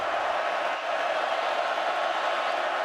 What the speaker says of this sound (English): You gotta love how loud this crowd gets on 3rd down.